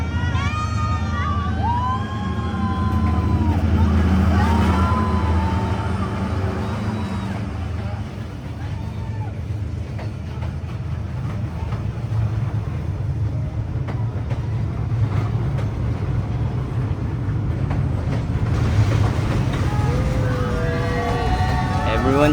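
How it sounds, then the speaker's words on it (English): A train in Vietnam approaches and rolls past after a long wait, a loud sustained rumble and rattle with a horn-like wail, under a crowd's voices and cheering. "here comes the train"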